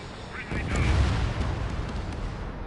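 A deep, booming explosion from an enemy bomber being shot down in the Ace Combat 7 video game, with a rumbling blast swelling early and a broad roar that lingers under game sounds and voices.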